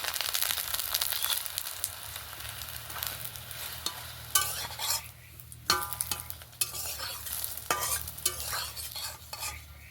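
A besan snack fries in oil in a pan, with a low steady sizzle and intermittent crisp scraping and crackling bursts as it is worked with a spatula, close and moderately quiet.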